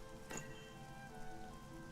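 Steady rain falls in the video game Child of Light, a soft, even patter that holds at a constant moderate level throughout, with a brief brighter swell near the start and no voices.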